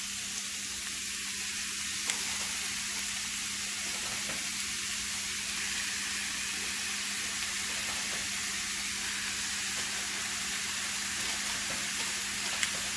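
Rib trimmings sizzle steadily in a 12-inch cast iron pan on a Camp Chef Explorer stove, a constant loud hiss with faint crackles and no voices.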